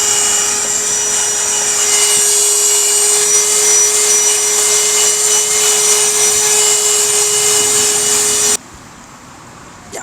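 A Hyundai 12 volt car vacuum cleaner runs steadily and loudly with a constant motor whine for about eight and a half seconds, then switches off abruptly, leaving a quiet room.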